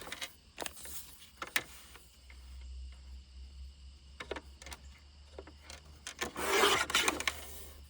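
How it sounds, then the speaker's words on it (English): Paper cards made from vintage book pages are trimmed with close, crisp cuts and rustling handling, a handful of separate snips and scrapes ending in a louder papery shuffle. "I'm just looking to trim them down."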